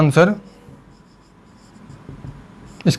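Faint scratching of writing an answer on a board fills a quiet stretch, framed by short bursts of speech at the start and end.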